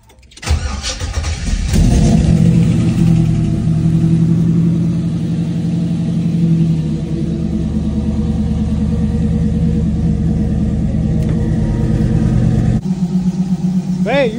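An LS-swapped Chevy Nova engine cranks, catches and settles into a loud, steady rumbling idle close by, running for a long stretch before a brief change near the end, with a voice heard briefly.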